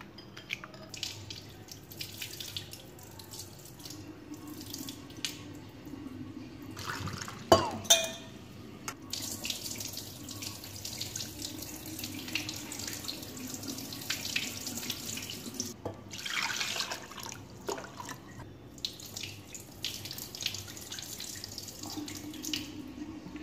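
Water runs steadily from a tap into a sink while oats rava is rinsed, with occasional splashes and light clinks of a container.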